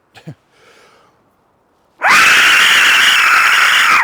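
After a few faint soft noises and a pause, an Aztec death whistle lets out a loud, sustained screaming shriek that holds steady for about two seconds and runs to the end.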